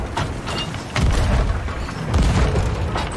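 Ship cannons booming in the pirate video game Sea of Thieves, two heavy low blasts about a second apart, loud and close with rumbling mechanical noise between them.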